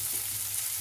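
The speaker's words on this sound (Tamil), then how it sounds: "இப்போது நம்ம எடுத்திருந்த ஆனியன் ஸ்லைசஸ் இதில் போட்டுருங்க. இது நல்லா கோல்டன் ப்ரௌன் ஆகிற வரைக்கும் வதக்கிக்கோங்க." Onion slices fry steadily in olive oil, a soft continuous sizzle with a low hum beneath, even and unbroken for under a second with no voices.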